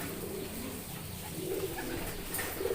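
Pigeons coo softly inside a coop, a few low murmuring calls over a steady faint background hum.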